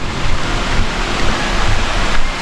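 A waterfall on the Agathiyar Malai trek in the Pothigai hills rushes in a dense, loud, continuous roar of broadband white water, close by and unbroken throughout.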